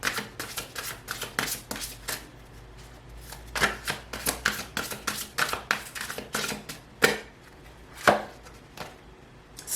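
Tarot cards shuffled by hand, giving rapid, close, crisp card-on-card taps and riffles in an uneven rhythm, with a few sharper snaps, and no talking.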